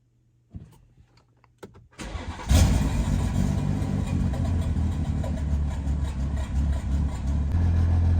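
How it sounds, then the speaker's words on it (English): A few quiet clicks, then a BMW G-series car engine cranks briefly and fires up, settling into a loud, steady idle nearby. "then we're gonna start the car up"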